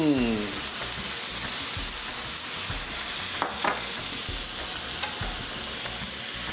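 Paneer goes into a thick wrap filling in a hot pan, under a dense, steady sizzle with a few soft stirring scrapes midway.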